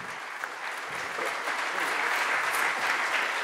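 A conference audience applauds to welcome professors Severino and von Herrmann, a steady, even wash of many hands clapping in a hall, moderately distant and slowly swelling, with no speech over it.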